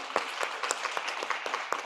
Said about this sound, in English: Big applause for Deaconess.